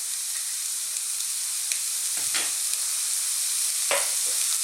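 Onions and fresh garlic fry with black pepper over medium heat, giving a steady close sizzle broken by a couple of brief stirring scrapes, and nobody speaks.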